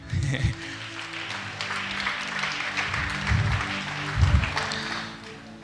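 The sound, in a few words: applause for the woman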